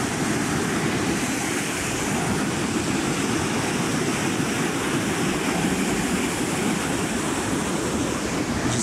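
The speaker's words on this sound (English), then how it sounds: "You just hear the power of that water" Lake Superior waves surge and splash steadily against Chapel Rock, a continuous loud, close roar of surf with broad wash and spray and no talking.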